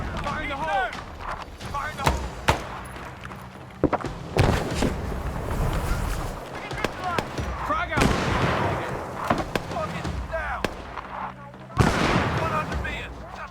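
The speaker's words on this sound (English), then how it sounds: "You'll also notice the improved and, may I say, aggressive use of hand grenades" Hand grenade blasts and gunfire in the Arma 3 military game: sharp bangs scattered through about thirteen seconds, several loud close hits with a dense rumbling battle bed between them, under a voice.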